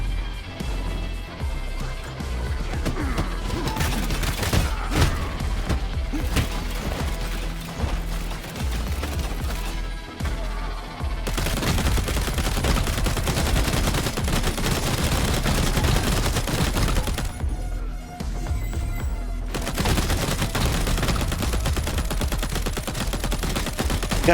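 Sustained video game gunfire with rapid bursts and crashing impacts, loud and dense throughout with only brief gaps.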